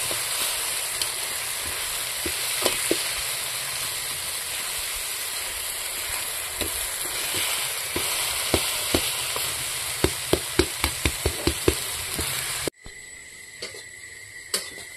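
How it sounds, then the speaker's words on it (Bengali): A pomfret fish head fries in a pan with taro, a steady sizzle with a run of sharp utensil taps near the end before the sound cuts off abruptly; no one speaks. "কত সুন্দর হয়ে গেছে ভাজা, খুব সুন্দর ভাজা হচ্ছে।"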